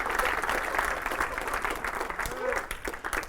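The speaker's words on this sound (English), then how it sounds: "Give him a round of applause." An audience in a bar or club claps for a man being introduced, a continuous dense round of applause with a voice faintly mixed in near the end.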